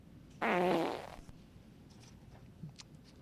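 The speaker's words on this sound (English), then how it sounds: "He farted loudly" One loud, rasping fart bursts out close by and lasts about half a second, then fades to a quiet background with a few faint small noises.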